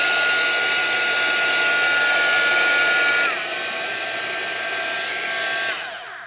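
A handheld heat tool blows a steady, high whine while it melts opaque pigment ink, close and loud, dipping in pitch once midway before it winds down at the end.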